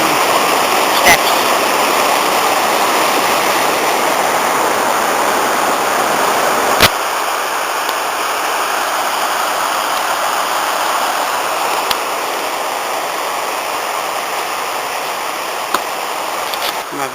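A small tributary stream of the Ysgethin River runs steadily nearby on a hillside, a constant close rushing wash of water with a few brief knocks and no talk.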